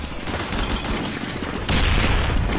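Dense, continuous automatic gunfire from a Dawn of War video game battle, loud and rapid throughout and swelling into an even heavier burst partway through, with no voices over it.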